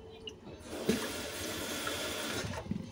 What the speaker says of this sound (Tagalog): Tingnan muna natin kung may tubig to.